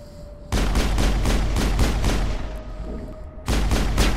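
Mass Effect weapon fire comes as loud rapid automatic bursts, a long run of repeated shots followed by a short pause and another burst.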